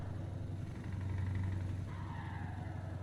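A truck engine in Euro Truck Simulator 2 holds a steady, deep rumble with a slight rise in pitch partway through, loud and close, with no speech.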